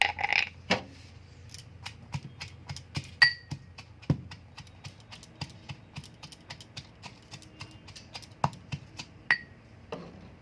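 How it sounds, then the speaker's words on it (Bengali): Chilli, onion and garlic being pounded together, a run of sharp close knocks at an uneven rhythm, with a few brighter metallic clinks among them. "আমার মরিচ, পেঁয়াজ, রসুন সব কিছু ছেঁচা হয়ে গেছে"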